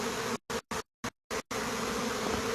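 Bees buzz loudly inside a bee removal box taken from a house soffit, a dense steady drone broken by several short silent gaps before running on continuously.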